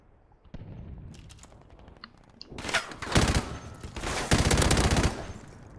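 An M249 SAW light machine gun fired in Call of Duty 4 Remastered, starting with a few scattered shots and then breaking into two loud, sustained bursts of rapid automatic fire close by.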